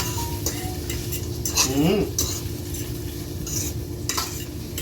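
A spoon stirs and scrapes through a sizzling pan as baking powder is mixed in during cooking, with clinks of utensil against cookware over a low background hiss.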